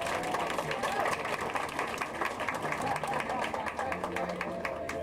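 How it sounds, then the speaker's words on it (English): Passengers aboard the cruise ship Sovereign of the Seas give applause for the chef and his team, an ongoing round of clapping from a crowd in a large room, with people talking beneath it throughout. "Let's have a big round of applause for the chef and his wonderful team."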